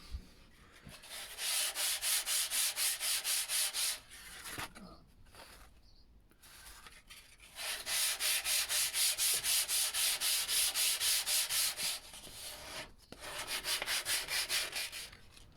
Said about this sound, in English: I'm just going to sand this round, just a little bit, just take the iris off.